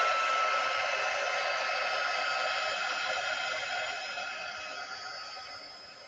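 A heat embossing tool blows hot air over a decorated piece, giving a steady, loud, breathy whoosh with no talk that fades gradually toward the end.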